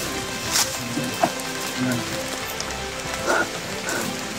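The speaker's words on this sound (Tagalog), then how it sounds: "Sobrang lakas na talaga ng ulan, no?" Heavy rain falls in a forest, a dense, steady patter close by, with a few brief louder knocks and splashes over it.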